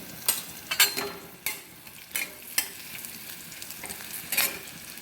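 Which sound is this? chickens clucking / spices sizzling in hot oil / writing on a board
spices sizzling in hot oil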